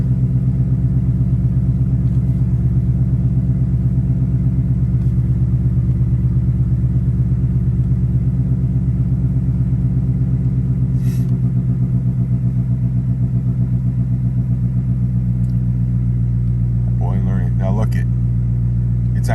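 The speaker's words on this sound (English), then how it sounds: "I'm sure you can hear the car" A 2021 Ford Mustang Mach 1 engine idles in neutral, a steady deep rumble that holds throughout at close range with little change, while a person talks over it.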